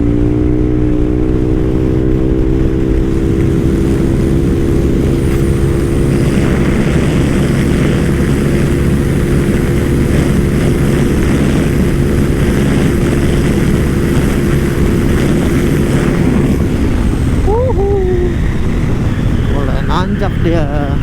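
Yamaha X-Max 250 scooter engine droning steadily at speed on a long straight road, a loud continuous hum with strong wind rush throughout, rising in pitch near the end as it accelerates.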